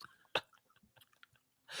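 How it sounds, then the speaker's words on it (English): Soft, irregular mouth clicks and smacks of someone chewing, close up, with a brief louder burst near the start and a rush of noise at the end. "You're munching, bro."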